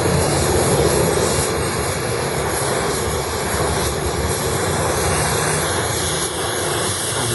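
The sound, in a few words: oxy-fuel gas cutting torch (gas axe) roaring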